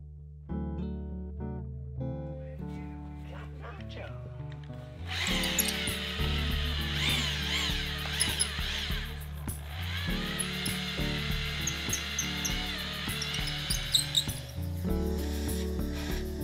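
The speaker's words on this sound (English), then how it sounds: "I used the progressively larger bits to start opening a slot big enough to start chiseling" Power drill boring a slot into wood with progressively larger bits while fitting a wooden boat's pocket keel, starting in short bursts, then a steady loud whirring grind that runs for several seconds before easing off.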